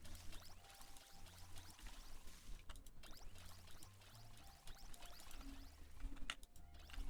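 Water pours and trickles steadily while crops are watered in the No Place Like Home video game, faint and continuous with a few light bird-like chirps over it.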